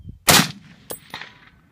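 A single sharp M1 Garand rifle shot at a steel target 200 yards away, a loud crack followed by two faint distant metallic pings of the hit ringing back.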